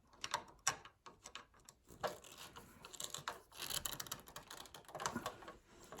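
A screwdriver tightens the terminal screw on a circuit breaker, making irregular close ratcheting clicks and scraping turns that rise and fall for several seconds, fairly quiet, with no voices.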